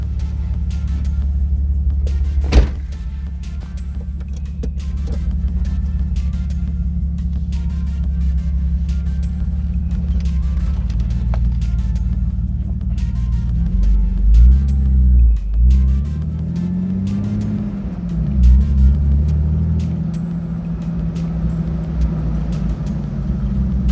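A Jeep Wrangler TJ engine drones steadily while driving on the road, a low rumble with occasional shifts in pitch as it accelerates and changes gear.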